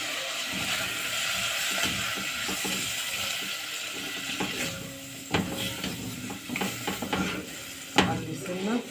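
Spice mixture with two small spoonfuls of turmeric sautéing in a pan, a steady close sizzle with intermittent scraping and stirring clatter, louder knocks toward the end.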